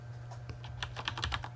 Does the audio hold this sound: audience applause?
no